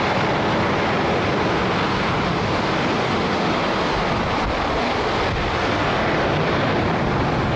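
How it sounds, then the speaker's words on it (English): Steady, loud broadband roar of wide-body jet airliner engines, continuous and unbroken with no talk, like a large passenger jet heard close by. "It is a versatile wide-body jet praised for its fuel efficiency and comfortable cabin."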